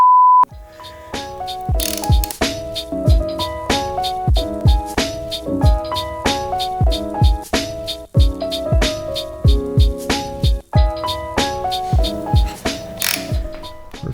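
A ratchet wrench fitted with a regular socket, which is not grabbing properly, works on a vehicle build. Fast, loud clicking repeats close up for the whole stretch, opening with a brief beep.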